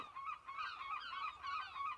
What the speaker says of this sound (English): two sharp-eyed seagulls landed on the side of the skip